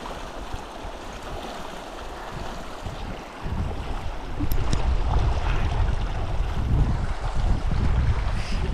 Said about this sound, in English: the water is not dead cold and even the flow is nice